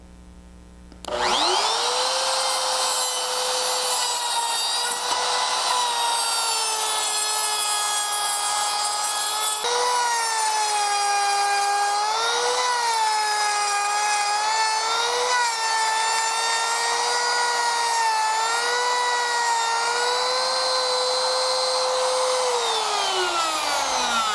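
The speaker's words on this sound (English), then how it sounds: "I'm going to move the router in and cut the inside of the ring" A router cutting the inside of a wooden inlay ring, a loud high whine starting abruptly after a brief quiet moment and running steadily, with slight dips in pitch as the bit bites into the wood.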